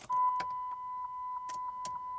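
Electric fuel pump priming in a PT Cruiser with 147,000 miles, sitting for two years: a faint steady whine heard from inside the car, with a few soft clicks and clunks around it.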